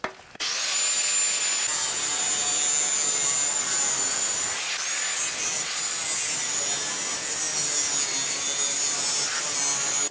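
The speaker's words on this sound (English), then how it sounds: "that was easily the most fun I've ever had with an angle grinder" An angle grinder cutting metal while a quick DIY spray can rack is being built, a loud, sustained high-pitched grinding whine that starts abruptly and runs almost unbroken, with a thin piercing tone riding on top.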